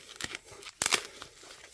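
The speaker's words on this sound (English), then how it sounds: "I can't get this open. I'll just tear it open." A coin holder package being torn open by hand, a few sharp ripping bursts with crinkling plastic in between, close and fairly quiet.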